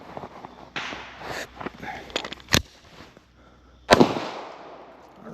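Handgun shots at an outdoor shooting range, a few sharp cracks spaced irregularly with one loud report near the end, amid shuffling and movement noise.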